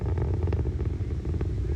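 Deep, continuous rumble from a Long March 5 rocket launch (flight Y11), a dense low roar with gritty crackle holding steady for under two seconds, no talking.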